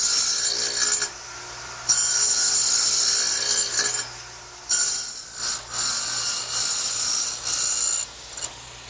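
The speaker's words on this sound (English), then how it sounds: "I've set the radial arm up with a dado cutting blade." A radial arm saw fitted with a dado blade plows through wood for a workbench, its loud hissing cut coming in several long passes separated by short pauses, close and dominant with no talk.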